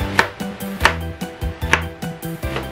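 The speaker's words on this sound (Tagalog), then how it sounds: "Sa onion naman, sa white onion, cut nyo lang siya into half." A knife chops through a white onion on a cutting board, giving about eight crisp, fairly steady strokes, each a firm thud with a woody knock, heard up close with no voices.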